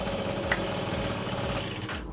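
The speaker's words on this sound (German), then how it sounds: "aber startet dieser gute Roller auch noch." An Aprilia SR 50 scooter's small engine runs with a steady buzzing putter just after starting, close and moderately loud with no talking.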